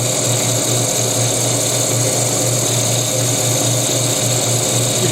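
Continuous whirring of a small power sander or lathe sanding a wooden prayer bead, running steadily and close, with a droning hum and no pauses.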